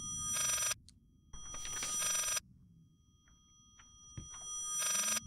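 Telephone in the horror video game Layers of Fear ringing in three loud, bright electronic bursts, each about a second long, separated by pauses with faint background ambience.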